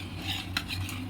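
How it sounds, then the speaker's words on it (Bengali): A spoon scrapes and clinks softly against a bowl while milk mixture is stirred for brown curd, a faint steady swishing with small taps, no talk. "ভালোভাবে মিক্স করে নিতে হবে যেন পুরোপুরি গুলে যায় দুধটা"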